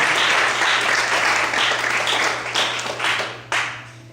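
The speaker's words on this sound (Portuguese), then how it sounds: "Você pode aplaudir ao Senhor essa noite?" A congregation applauds together, a dense wash of steady clapping that fades slightly, then swells again with a fresh burst near the end.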